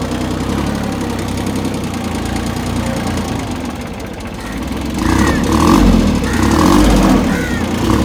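A VST VT-180D mini tractor's diesel engine running in high-speed first gear, a steady loud chugging rumble that swells louder in the second half.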